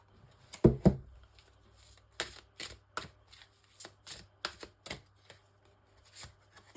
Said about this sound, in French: je vais vous sortir une dernière carte de l'oracle de l'énergie